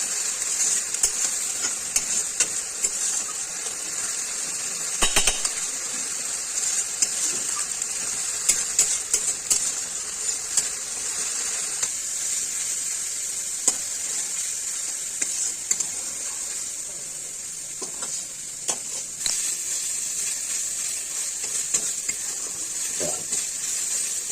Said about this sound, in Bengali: আমি এখন পেঁয়াজটা ভাজতেছি, পেঁয়াজ বাটাটা।